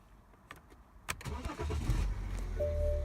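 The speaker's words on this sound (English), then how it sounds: "I'm going to start the car." A BMW X5 engine starts up close by: a few clicks, a brief crank, then the engine catches and settles into a steady low idle hum.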